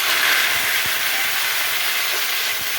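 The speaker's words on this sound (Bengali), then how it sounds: "তেল গরম হয়ে গেছে, এর মধ্যে আমি সাদা জিরে ফোড়ন দেব।" Cumin seeds sizzle in hot oil for a bottle gourd curry, a steady, loud, close hiss with a few faint clicks and no talking.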